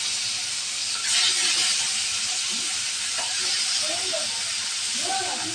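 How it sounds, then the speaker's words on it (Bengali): Hilsa fish rubbed with turmeric and salt fries in hot oil, a loud, steady hissing sizzle throughout, with a faint voice near the end. "ইলিশ মাছ ভাজার জন্য তেল দিয়ে দিল। তেল গরম হয়ে গেছে, দিয়ে দেবো মাছ।"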